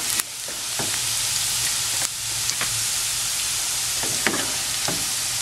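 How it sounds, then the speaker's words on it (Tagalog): Garlic sautés in a tablespoon of cooking oil in a pan, giving a steady, close sizzle with occasional sharper crackles and stirring clicks throughout, with no one talking. "naglagay tayo dito ng 1 tablespoon of cooking oil. Ginisa natin yung garlic."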